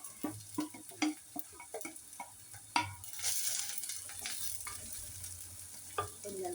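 Ingredients sautéing in a pan with a steady frying hiss, punctuated by repeated clicks and scrapes of stirring at an irregular pace, moderately close.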